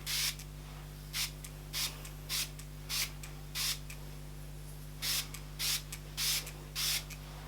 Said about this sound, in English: I don't know how many sprays you're supposed to do